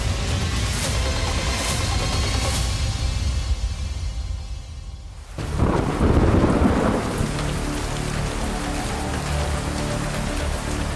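Steady heavy rain pours throughout, broken midway by a deep rumbling crack of thunder that swells and then fades back into the downpour.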